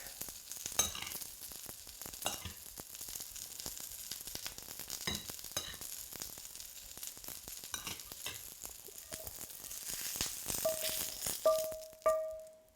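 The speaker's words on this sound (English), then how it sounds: "And then give it a good stir." Brussels sprouts leaves stirred in a hot pan give a faint, steady sizzle with soft repeated scraping and rattling strokes, and a few short tones sound near the end.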